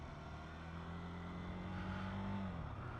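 A KTM 390 motorcycle engine on a track, a steady droning hum with a rising then settling pitch, somewhat distant and moderately loud, no speech.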